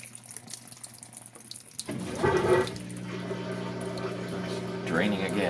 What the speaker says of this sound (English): Now it's starting another rinse cycle.